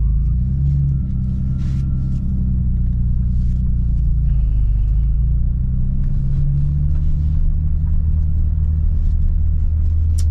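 A Stillen Z car drives along with a recently bled clutch, its engine giving a steady, loud low rumble inside the cabin, with faint clicks and rattles on top.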